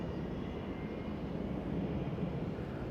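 EasyJet airliner departing Manchester Airport: a steady, low, broad engine roar held throughout with no breaks, heard at a moderate distance.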